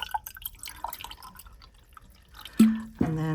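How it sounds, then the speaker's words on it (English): Water drips from the holes in the bottom of a resin plant watering dispenser held over a plant pot, giving scattered soft drops that are followed by two sharper, louder tonal plinks near the end. "it releases the water out of the holes in the bottom and feeds your plants from the roots"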